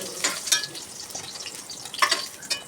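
Eggplant sautéing in oil in a pan, soft sizzling with a few scraping stir strokes and light clinks of a utensil, close and fairly quiet.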